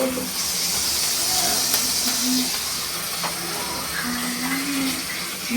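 Onions sizzling with ginger garlic paste in a pan, a steady loud hiss of frying that holds unbroken throughout, close up with no voices.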